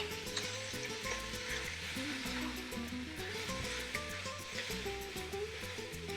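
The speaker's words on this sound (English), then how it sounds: "you want to fry them up a little bit. Get them nice and brown." Carnitas sizzle and fry in a pan, a steady crackling hiss with occasional louder pops, close and continuous with no talking.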